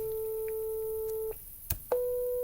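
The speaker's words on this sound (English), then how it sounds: "this sine tone is mathematically generated from a computer, a pure tone." A steady, pure, computer-generated sine test tone hums alone, briefly breaks off with a couple of clicks, then resumes at a slightly higher pitch.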